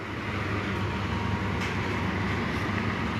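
Container freight train rolling past, heading from Tanjung Priok toward Kalimas Surabaya, a steady loud rumble with no clear breaks.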